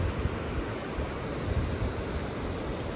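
Monsoon floodwater rushing through an off-grid RV campsite in Arizona, a steady broadband roar with low rumble, moderately loud and continuous, slightly buffeted like wind on the microphone.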